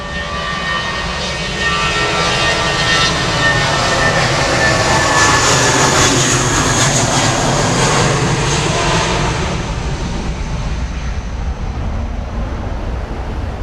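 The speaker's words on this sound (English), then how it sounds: "JetBlue now off to Fort Lauderdale." A JetBlue jet airliner departs Grand Cayman bound for Fort Lauderdale, giving a steady, loud broadband jet engine roar that swells in the middle and eases slightly toward the end, with no talk over it.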